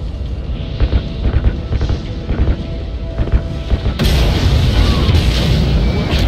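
In Call of Duty Ghosts, RCS fuel lines are ignited with gunfire, giving a series of dull booms and pops that swell into a loud, sustained explosive roar partway through, with game voices faintly underneath.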